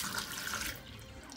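Water from a tadpole tank gently poured into a sink, a continuous splashing hiss that thins out partway through, close and without voices.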